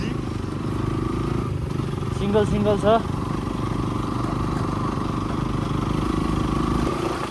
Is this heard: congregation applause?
no